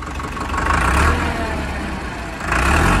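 A Mahindra DI 35 tractor diesel engine revs up twice from a steady rumble, each swell rising briefly louder before settling back, heard close by.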